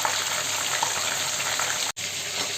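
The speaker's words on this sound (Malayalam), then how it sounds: "ഇങ്ങനെ നമുക്ക് എല്ലാ ചിക്കനും വറുത്തെടുക്കാം." Chicken deep frying in hot oil for a Kerala-style chicken roast gives a loud, continuous close sizzle that drops out for an instant near the end.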